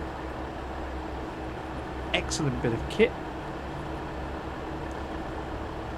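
GWR Class 802 IET train in Train Sim World 6 on the Riviera Line, a low steady hum of idling traction and air conditioning under a voice, with a few brief clunks.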